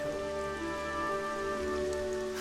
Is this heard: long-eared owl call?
no